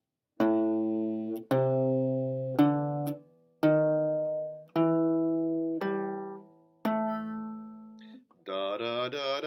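Single notes of a blues scale picked one at a time on a guitar, about seven ringing tones stepping along with short gaps between them, followed at the end by a brief voice.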